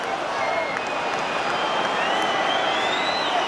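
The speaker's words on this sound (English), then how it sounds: "Crowd calling for the final whistle." A football crowd at an Arsenal versus Chelsea match in 1996-97 keeps up a loud, sustained roar and whistling, with a commentator's voice running over it.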